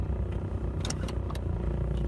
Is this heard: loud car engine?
yes